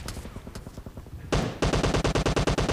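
Gunfire in the video game PUBG near the Military School, from an S12K shotgun: a few scattered shots, then a sudden loud burst of rapid, evenly spaced blasts close by.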